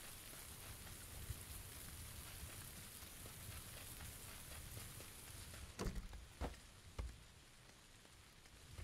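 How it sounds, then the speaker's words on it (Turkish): Steady rainfall in the video game PUBG patters softly and continuously, with a few sharper ticks and knocks breaking through toward the end. "Yağmur yağarken şu oyunu oynayamıyorum ben de"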